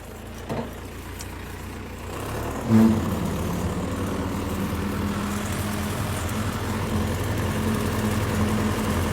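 A tractor engine idles and then pulls away, a low steady rumble with a short thump as it engages, its drone holding on at a moderate, even level throughout.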